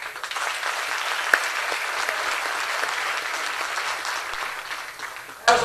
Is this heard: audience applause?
yes